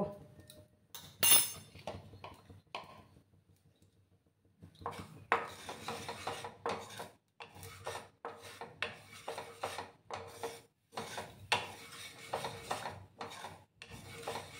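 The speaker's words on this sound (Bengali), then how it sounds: "দিয়ে এটাকে হালকা ড্রাই রোস্ট করে নেব" Poppy seeds dry roasting in a pan over low gas, heard as repeated close scraping and rubbing strokes of a utensil against the pan, rhythmic and moderately loud after a quieter opening.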